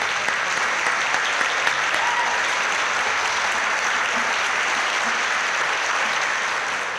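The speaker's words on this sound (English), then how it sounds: "let's give these amazing people a round of applause" Sustained applause from a large audience honoring HandUp graduates at a RaiseUp Families graduation celebration, steady and dense for the whole stretch with no break.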